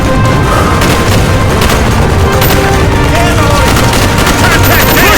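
Call of Duty: Black Ops machine gun fire in a Vietnam village battle roars as a loud, unbroken barrage with booming impacts, under shouted commands.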